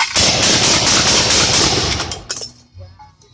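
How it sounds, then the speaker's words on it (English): A gun rapidly fires seven cartridges in one quick, loud, continuous burst lasting about two seconds, followed by fading echo and clatter. "Now I've only got 7 here, so you kind of get an idea with just 7 how fast this thing can fire."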